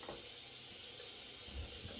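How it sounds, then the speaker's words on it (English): Warm tap water runs steadily into a shaving bowl as it is rinsed, a soft continuous splashing and trickle heard alone at close range. "We're going to rinse that out in the warm water."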